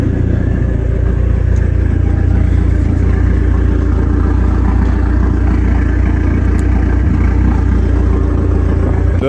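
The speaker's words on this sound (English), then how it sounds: "You can always just faintly hear the turbo, but it sounds good. It is pretty loud," A Dodge SRT-4 with a turbocharged engine runs steadily and loudly close by, a dense low rumble holding for the whole stretch with a faint turbo whistle above it and no talking.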